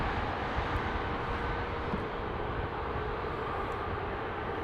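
A United Boeing 787-10 Dreamliner arriving from Chicago on Dublin Airport's north runway gives off a steady, distant broadband roar of engine and airflow, with no voices.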